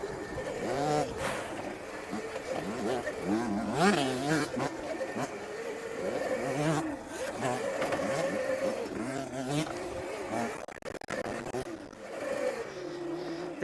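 Yamaha YZ85 and YZ65 dirt bikes riding on a homemade dirt bike track, their small two-stroke engines rising and falling in pitch as the riders rev and ease off, heard at middle distance against outdoor background.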